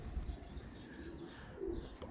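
Pigeons cooing at a keeper's loft of traditional pigeons, soft low coos heard faintly under steady background noise, with light rustling.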